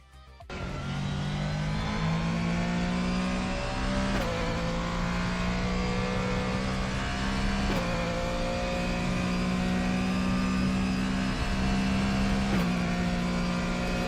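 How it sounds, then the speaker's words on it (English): A Mustang race car engine in the racing game RaceRoom holds a loud, steady drone with a few brief revs or gear changes every few seconds, no voices. "This might actually be the worst Mustang audio file I've ever heard."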